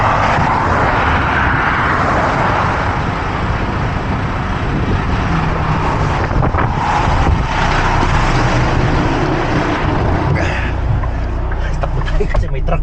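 A large truck rumbles past on a roadway in Canada, its loud engine and tire roar swelling and holding for several seconds over constant road noise while someone talks.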